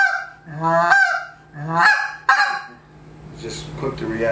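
A goose call with a reed, blown in three loud honking notes, each rising then breaking, followed by a softer, raspier honk.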